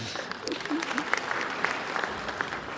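Audience applause at a formal opening ceremony, a dense steady patter of many hands clapping for a few seconds with a voice faintly beneath.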